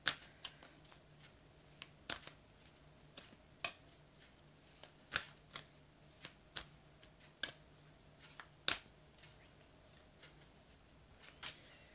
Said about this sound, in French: je vais couper le jeu et je vais étaler les cartes